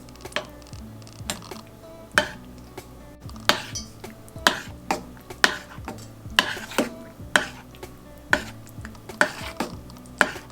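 A spoon stirs creamy grits with melting cheese in a pot, scraping in a steady rhythm of about ten clear, close strokes with faint sizzling underneath.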